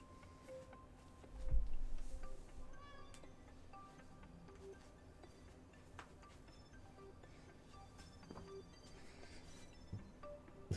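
A domestic cat meows faintly a few times, with short, soft calls spread over a quiet background and no one talking.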